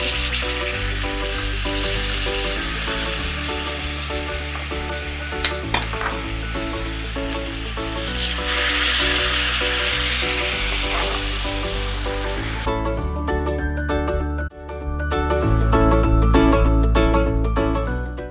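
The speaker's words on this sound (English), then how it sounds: "we're just going to let the steak sear in the pan for about 3 to 4 minutes" Filet mignon steaks sear in olive oil and butter in a hot pan, giving a steady, loud, close sizzle that runs the whole time over a tonal background hum.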